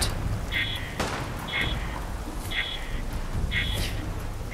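An alarm in the video game Fallout 4, a repeating electronic beep roughly once a second over a dense rumbling rain-like background, fairly loud and steady.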